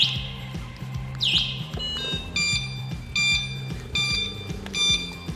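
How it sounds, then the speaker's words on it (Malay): Electronic alarm melody from a three-wheeled ride-on toy car, a looping run of bright beeping tones over a steady repeating low buzz, close and fairly loud with no talk. "So dia ada alarm"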